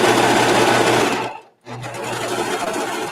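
A serger sewing machine runs steadily while stitching a rolled hem on scarf fabric, a loud, close, even mechanical whir that stops briefly partway through and then resumes at the same pace.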